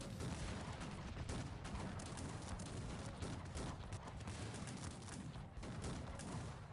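Rapid gunfire crackles in bursts in a Cossacks 3 strategy game battle, dense overlapping shots and thuds at a distance, layered like a chaotic battle with no voices.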